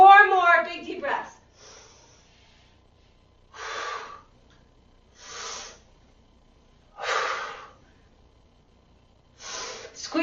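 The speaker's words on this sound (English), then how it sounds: "Big deep breaths." During an exercise workout, a person takes slow, deep breaths, heavy audible inhales and exhales spaced a couple of seconds apart, following a brief spoken instruction at the start, with near silence between each breath.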